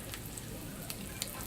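Breaded tilapia fries in a pan with a steady, soft broadband sizzle throughout, broken by a couple of faint crackles and pops, with no talking.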